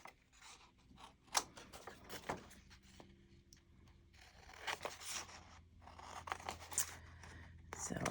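Scissors trimming paper for an art journal, a run of quiet, close snips and crisp paper rustles and scrapes at uneven intervals, faint and intimate.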